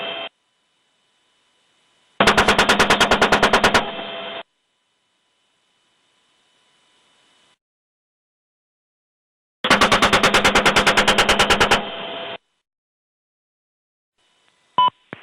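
Helicopter gunfire against ground troops in Afghanistan or Iraq, two long rapid bursts of about two seconds each separated by near silence, harsh and loud, ending with a brief click.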